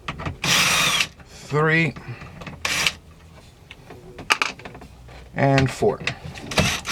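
Power driver whirring in short bursts while 7mm screws come out of the dash radio of a 2005-2007 Ford F250, with ratcheting clicks between bursts and a man counting aloud.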